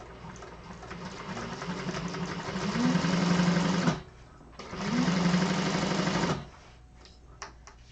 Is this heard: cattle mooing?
no